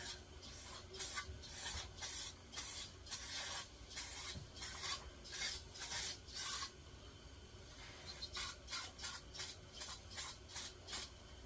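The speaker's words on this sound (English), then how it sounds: "This is just regular old brake clean from Napa, and I liberally" Brake cleaner from Napa sprayed liberally onto engine parts during a 250R top end rebuild, heard as repeated short hissing bursts in a steady rhythm, a pause, then a faster run of quick sprays, fairly close with no talking.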